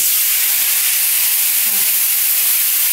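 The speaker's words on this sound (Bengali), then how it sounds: "সরষের তেলটা গরম হয়ে গেছে। আমি এর মধ্যে দিচ্ছি পেঁয়াজ বাটা।" Ground onion paste fries in hot mustard oil for fish roe bharta, producing a loud, dense, continuous hiss that holds steady from start to finish, close up with no voices.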